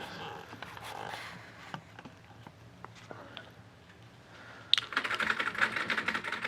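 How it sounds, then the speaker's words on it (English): Keys click and tap on the membrane keyboard of a rusty barn-find Commodore SX-64, scattered single presses close up, followed by a denser, louder burst of rapid typing. "So you can probably hear me touching keys"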